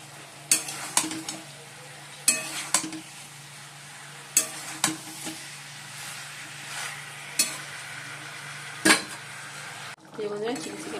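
Chilli chicken with capsicum, onion and chilli sauce is stir-fried in a pan, a steady sizzle broken by repeated sharp scrapes and clanks of a spatula against metal, close and loud.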